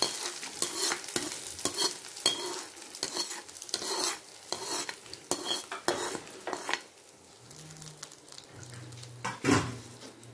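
Hot tempering poured into a coconut-style chutney for uzhunnu vada and stirred in, a quick run of close spoon clinks and scrapes over a light sizzle that fades toward the end, with a short low hum near the close.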